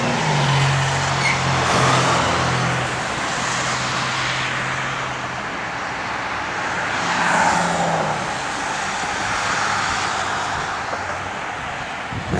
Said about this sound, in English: It's got a great sounding little small block Chevy in it.